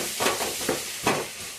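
Cut vegetables frying in hot oil for a Sunday-special mutton curry, giving a steady close sizzle with a few soft stirring swishes through the pan and no speech.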